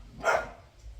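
A small cross-breed dog gives a single short, sharp bark close by.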